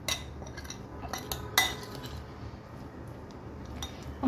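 Corn chaat vegetables are tossed together with a spoon in a bowl, giving soft scraping and intermittent light clinks of metal utensil against the dish, close and fairly quiet, with no talking.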